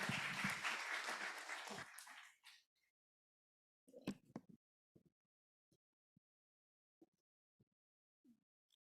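A church audience at a high-school sermon contest claps warmly for a student preacher for about two seconds, then the room falls quiet apart from a few scattered faint knocks.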